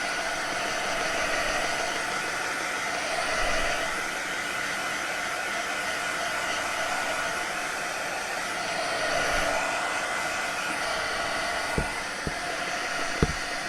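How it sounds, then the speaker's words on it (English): A heat gun gives a mixed media box a final drying blast, a steady loud whooshing roar that holds throughout with slight swells, ending with a few sharp clicks and taps. "I'm going to now give it a final zap with a heat gun"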